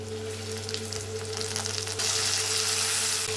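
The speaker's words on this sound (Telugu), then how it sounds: "సో ఇప్పుడు మనకు టమాటా కూడా బాగా ఫ్రై అవ్వాలి" Tomatoes and onions frying in a pan for dry fish curry, giving a steady close sizzle over a constant hum of kitchen noise, with a brief stir part way through.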